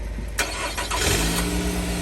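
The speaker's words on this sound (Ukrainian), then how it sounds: "Машинка заводиться, все добре." A 2018 Nissan Rogue engine cranks briefly and catches, then settles into a steady, close idle hum.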